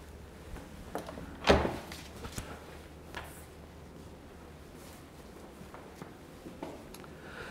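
A door opening and shutting into a veterinary anesthesia induction room, one sharp loud knock or latch clunk standing out amid a few fainter taps and shuffles in a quiet room.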